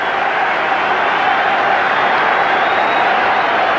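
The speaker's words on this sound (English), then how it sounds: "Thunderous applause and cheers for the Widnes side." A large stadium crowd at Old Trafford roars with sustained applause and cheering as the Widnes rugby league side takes the field, a dense, steady wash of noise with no breaks.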